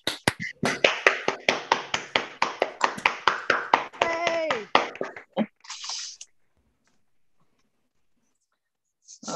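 Scattered applause for graduates at an online degree ceremony, a few people clapping sharply and unevenly for about five seconds, with a brief voice mixed in, before it fades to silence.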